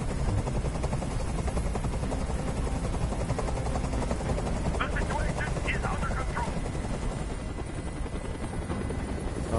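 A helicopter roars loudly and continuously overhead in the video game Detroit: Become Human, its rotor thumping in a rapid steady chop, with faint higher chirps briefly in the middle.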